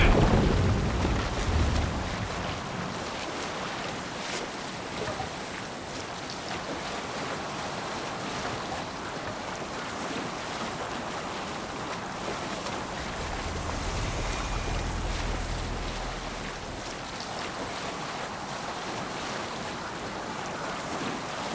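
A sailing ship in a video game rolls across ocean waves, with a continuous wash of surf and wind noise and a deeper swell partway through, and no talking.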